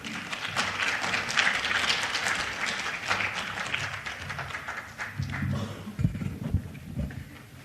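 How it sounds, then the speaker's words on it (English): An audience at a women political leaders summit applauds a speaker coming to the stage, moderate clapping that thins out toward the end, with a few sharper claps and taps. "But please give her a round of applause as she comes to speak to us."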